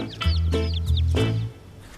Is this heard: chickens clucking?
yes